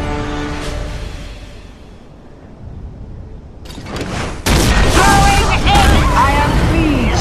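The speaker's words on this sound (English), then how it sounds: "Incoming frag!" Frag grenade blast in a video game: a quieter stretch of battle noise, then a sudden loud, broadband boom that hangs on as a sustained roar, with gunfire-like crackle and a voice in the mix.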